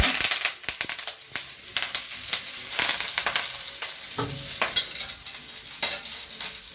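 Curry leaves frying and being stirred in a pan for a curry leaf powder, sharp crackling pops and sizzles in irregular bursts, close and fairly loud, with scraping stirring sounds and no talk.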